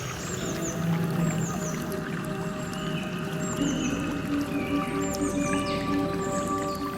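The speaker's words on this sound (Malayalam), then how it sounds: "അരുവിയുടെ ചെറിയ ശബ്ദവും നമ്മൾ എൻട്രി ചെയ്യുമ്പോൾ തന്നെ നമുക്ക് കേൾക്കാം." A small stream flows steadily through a pine forest, its continuous watery rush close and even, with faint bird calls above it and no talk.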